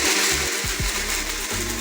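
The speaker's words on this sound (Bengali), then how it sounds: "ওটা মিক্সিতে একবার ঘুরিয়ে নিই" Kitchen mixer grinder whirring steadily as it grinds a spice paste with a little water, a loud continuous motor drone with brief dips and restarts, close up and alone.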